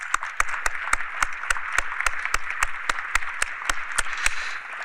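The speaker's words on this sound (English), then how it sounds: "A warm welcome and applause from the Rotary." A Rotary club audience applauds at a meeting, with a dense, steady wash of clapping and sharp, evenly spaced claps standing out throughout, close and fairly loud.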